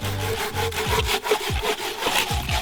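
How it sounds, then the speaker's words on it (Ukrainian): Two roughly matching wooden logs being cut with a hand saw, one an old traditional saw, with steady back-and-forth rasping strokes, close and loud, no talking. "ми взяли приблизно дві однакові колоди, і одну розпиляємо старою дідівською пилкою, а другу нашою"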